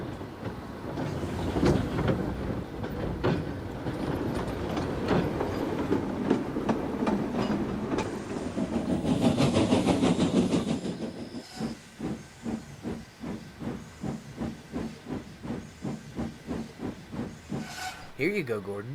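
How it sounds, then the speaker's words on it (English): A steam locomotive shunting coaches to a station platform releases a long, loud hiss of steam, then settles into a steady rhythmic chuffing that ends with a brief sharp blast. "When Gordon arrived at Knapford, Stanley was shunting his coaches to the platform."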